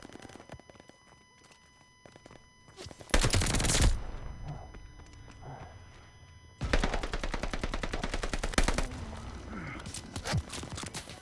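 Heavy automatic gunfire in a Call of Duty Vanguard team deathmatch comes in two loud, dense bursts, one short and one longer. Quieter scattered shots and game sounds fill the gaps between them.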